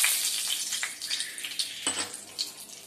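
Bay leaves dropped into a little hot oil for a Malvani-style crab curry, giving a steady, close, high frying sizzle with a few crackling bursts and pops.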